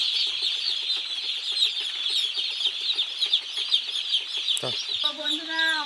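A flock of chicks in a poultry shed of about 440 day-old birds keeps up a constant high-pitched peeping chorus, close and steady, with a few lower clucks and a brief louder call near the end.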